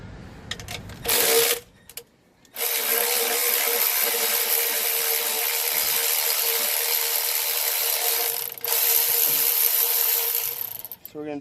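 Ratchet with a deep socket loosening the 8mm fuel rail studs on a 1999 Ford Crown Victoria 4.6 V8 during intake manifold removal, a loud, continuous close-up buzzing whir that runs for several seconds after a short opening burst.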